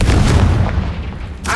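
A Confringo blasting spell explosion in the video game Hogwarts Legacy, a loud close boom that rumbles and decays, then a second sharp burst cuts in at the very end.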